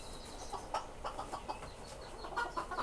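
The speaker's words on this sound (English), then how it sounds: "So this is one of the red roosters going." A red Serama rooster clucks softly inside a wide shipping container, giving short, scattered clucks and chirps over a faint, steady background.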